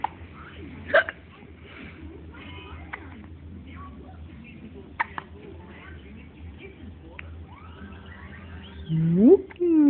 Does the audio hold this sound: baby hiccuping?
yes